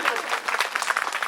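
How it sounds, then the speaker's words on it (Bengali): Applause from an audience at a primary school annual function, a brief burst of dense clapping with some crowd voices under it. "জোরে হাততালি"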